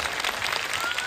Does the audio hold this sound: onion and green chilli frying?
no